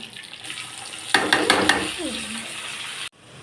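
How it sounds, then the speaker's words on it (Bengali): Potatoes and onions sizzle and crackle frying in a hot pan, with a brief louder burst of spattering, then a steady hiss, ending abruptly. "আলু আর পেঁয়াজটা আমার ভাজা হয়ে গেছে।"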